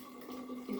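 Homemade kombucha poured from a jar into a container, a steady close liquid trickle with a brief louder splash near the end, no talking.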